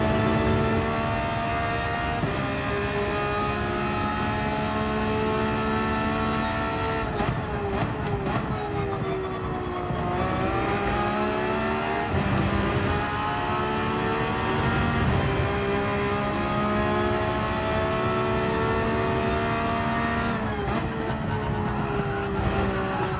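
A Porsche race car engine in Gran Turismo 7, racing at Interlagos, drones steadily at high revs, with pitch sweeps as it shifts gears and brakes, loud and continuous.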